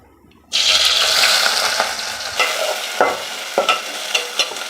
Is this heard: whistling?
no